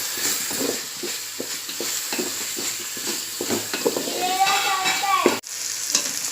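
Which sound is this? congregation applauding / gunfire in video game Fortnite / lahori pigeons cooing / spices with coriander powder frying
spices with coriander powder frying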